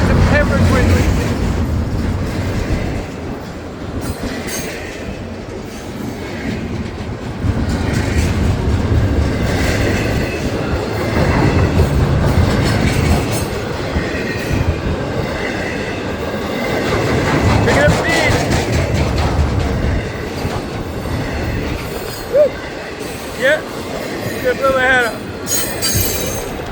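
A train rumbles loudly past a crossing gate, wheels clattering and squealing steadily as it pulls out of town, with a person talking over the continuous noise.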